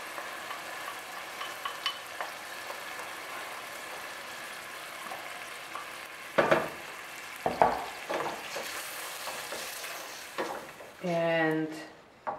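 Tomatoes go into a pan for amatriciana sauce and fry with a steady low sizzle, with louder splashy bursts and stirring scrapes. A brief, higher tonal sound comes near the end.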